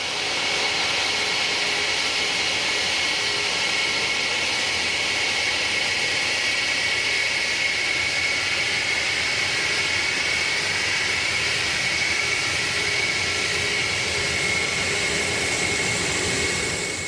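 A Concorde supersonic jet rolls past on the ground, a steady broad engine roar with a high whine held loud and unbroken throughout, no voices.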